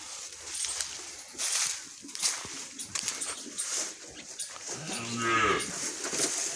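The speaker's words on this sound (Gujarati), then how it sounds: "આ છે અમારી કાબરી ગાય," A spotted farm cow gives one clear, close moo near the end, after a few seconds of quiet barnyard shuffling and faint animal noises.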